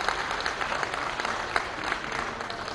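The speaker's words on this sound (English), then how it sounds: "Please, let's give the Commissioner a very round of applause." An audience at a trade-policy anniversary event applauds the ECOWAS Commissioner, a brief even patter of clapping at moderate volume.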